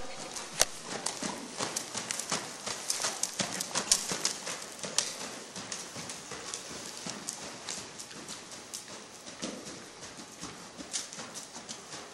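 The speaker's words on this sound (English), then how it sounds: "Now go posting trot." Horse hooves clip-clopping steadily at a posting trot during a riding lesson in an arena, a continuous rhythmic beat of close footfalls with occasional faint voice in the background.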